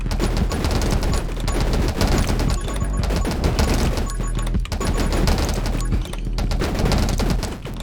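Rapid, dense video game shotgun fire cuts down enemies in 20 Minutes Till Dawn, loud bursts of shots rattling almost continuously with brief dips between volleys.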